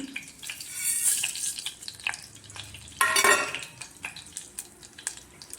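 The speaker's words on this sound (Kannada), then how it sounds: "ಒಗ್ಗರಣೆ ಸಾಮಾನು ಹಾಕೋಣ. ಸಾಸಿವೆ, ಕಡಲೆಬೇಳೆ, ಉದ್ದಿನಬೇಳೆ, ಜೀರಿಗೆ ಹಾಕ್ತಾಯಿದ್ದೀನಿ." Mustard seeds, chana dal, urad dal and cumin crackle and sizzle in hot oil, with uneven popping and stirring scrapes and a loud burst of spitting partway through. No one speaks.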